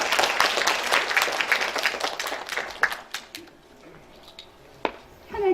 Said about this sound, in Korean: 제가 이런 말에서 여러분 큰 박수로 맞아주시길 바랍니다.